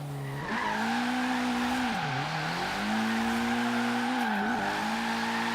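All-wheel-drive car drifting in Forza Horizon 3, a steady engine drone with sustained tire skid that dips and recovers through the slide, loud and continuous for several seconds.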